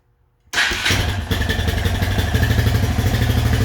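A Can-Am Outlander 650 XT ATV fires up abruptly after a moment of silence, catching at once and settling into a steady, close, loud idle with a rapid chugging pulse.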